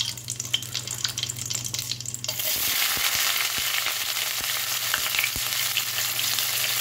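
Chopped onion drops into oil with whole spices such as bay leaf, and a low hum gives way to a loud, steady sizzle, broken by several crisp clicks of a spatula against the pan; nobody speaks.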